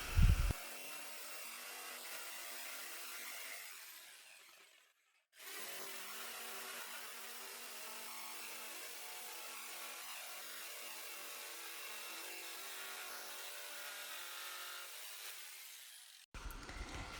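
A jigsaw saws a cat-head opening into a wooden board for a homemade cat scratching post, a steady buzzing cut that runs for several seconds, stops briefly, then resumes for a long continuous stretch before ending.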